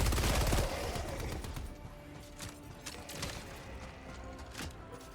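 Rapid sustained fire from a Stalwart machine gun in Helldivers 2, a dense rattling burst that opens loud and continues as a busy stream of shots mixed with other game sounds.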